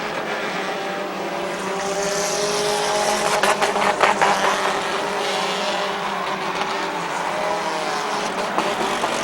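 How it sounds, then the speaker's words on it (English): Several race cars circle the oval at Midvale Speedway, a steady, dense engine roar with a brief swell of passing cars partway through; no talk. "Dan Bucky driving the 57 tonight is pulled to the infield"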